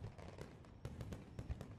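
Fireworks pop and crackle in a scattered series of sharp bursts, fairly faint and distant-sounding.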